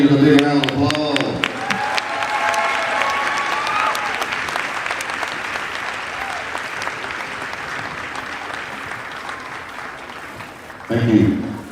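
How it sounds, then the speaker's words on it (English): A gym crowd at a high school basketball senior night claps and cheers at length, starting loud with a voice over it, then settling into a steady wash of applause before a speaker returns near the end. "Once again, let's give all these seniors a big round of applause."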